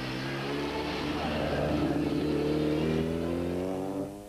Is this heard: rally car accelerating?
yes